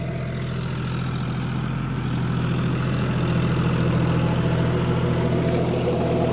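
A John Deere 5050D GearPro 4WD tractor runs steadily with a rotavator in a seedbed field, its low diesel drone close and constant throughout with no pause.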